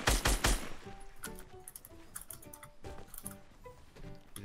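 Rapid gunfire in the battle royale game Fortnite: a loud burst of shots at the start, then a faster string of sharp, lighter cracks and pops over the next few seconds, with no talk.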